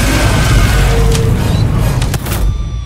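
A loud explosion boom from the Helldivers 2 video game trailer, a dense roaring blast with rumbling low end and crackling bursts that stays heavy and continuous across the whole moment before tailing off at the end.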